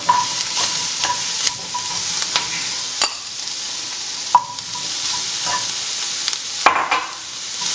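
Asparagus and shrimp sizzle loudly in a hot pan, a close, steady frying hiss punctuated by regular sharp clicks and scrapes of stirring.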